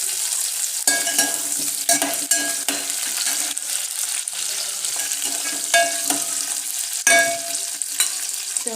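Peanuts sizzle steadily as they are stirred and fried in a pan for a spiced rice or veg biryani, with repeated scraping strokes of the spoon breaking through the continuous close crackle.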